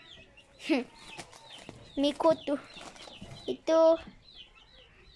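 Chickens, including a tailless hen with chicks, cluck and squawk nearby in short bursts while a person talks over them.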